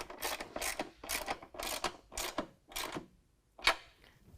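A ratchet with a 13mm socket snugging nuts on nerf bar brackets of a 2019 Ram 1500, six quick rhythmic bursts of clicking close up, then a pause and one final sharp click.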